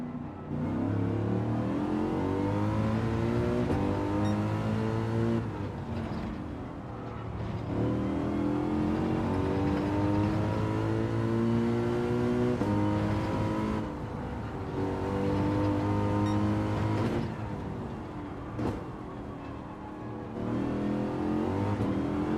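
A race car engine in Gran Turismo 7 revs hard under throttle, its loud, continuous drone climbing and dropping through repeated gear changes across the whole stretch, with no talking.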